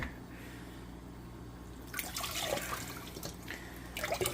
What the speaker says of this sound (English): Pour out the rest of the water here.